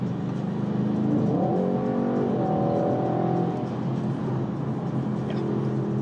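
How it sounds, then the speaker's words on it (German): An Audi RS6 on a test drive, its engine accelerating: a deep, steady rumble with rising tonal revs through the first seconds, then a sustained drone, heard from inside the moving car. "ich tippe nur ein bisschen Gas und das Ding dreht durch"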